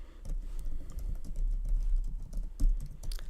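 Fingers type on a computer keyboard in quick, uneven bursts of close, light clicks, with no one speaking.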